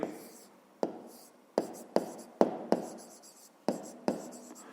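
Pen strokes scratching across paper while a math calculation is written down, a series of short scratchy bursts with sharp onsets, close and soft, with faint murmuring between strokes.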